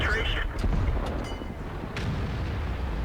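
Tank guns fire shells in World of Tanks, with deep booming reports and sharper cracks over a heavy rumbling battle bed, while a voice talks throughout.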